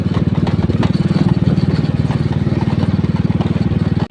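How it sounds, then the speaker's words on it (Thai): A walking tractor's engine runs loud and close, its rapid steady thumping pulse holding constant throughout before cutting off abruptly at the end. "เนี่ยรถไถ"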